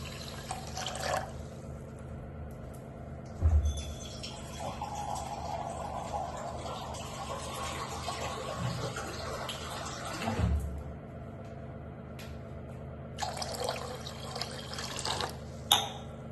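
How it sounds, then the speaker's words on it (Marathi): Water is poured from a glass into washed rice in a cooking pot while making moong dal khichdi, a few separate splashing pours with gaps between, close and fairly quiet, along with small kitchen clinks. "तर या दीड वाटीला मी पाणी घालणार आहे 2 ग्लास"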